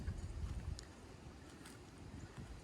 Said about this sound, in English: because it's windy today.